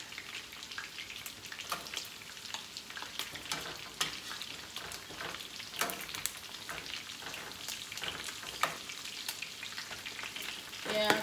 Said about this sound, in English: So here's the chicken frying.